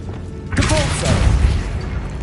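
Depulso repelling spell in Hogwarts Legacy on PS5 bursts out as a sudden whooshing blast with a low boom that holds and rumbles, loud and close, with some game sound beneath.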